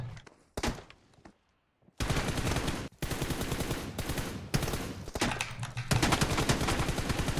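Gunfire in a PUBG Mobile team deathmatch, with sharp rapid bursts of automatic shots broken by short gaps, loud and close, then long sustained strings of fire toward the end.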